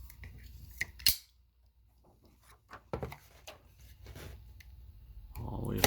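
A blade slices through FEP film on an Elegoo Mars resin printer vat, giving several short sharp snips and scrapes spread across the clip, close and fairly faint, with quiet handling noises between them.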